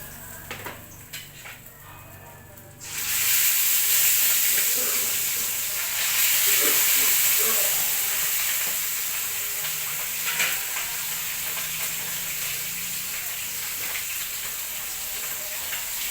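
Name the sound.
fish frying in a pan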